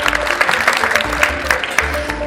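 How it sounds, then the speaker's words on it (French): An audience at an awards dinner honoring students claps steadily, distinct hand claps standing out over a continuous room wash, with a low background hum throughout. "Je voudrais féliciter tous les élèves et vous demander de les applaudir"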